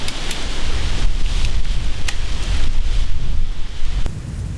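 Steady outdoor wind buffeting the microphone high in a tree during a Pennsylvania deer hunt, a loud low rumble with gusts rising and falling throughout, no talking.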